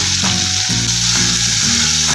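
Chopped onions fry loudly in hot oil, a dense, continuous sizzle close up with no voices.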